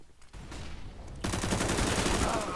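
Automatic AK rifle gunfire in the Counter-Strike video game, a quiet opening then a dense, sustained burst of rapid shots that turns louder partway through.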